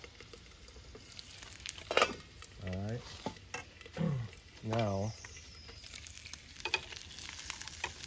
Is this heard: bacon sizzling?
yes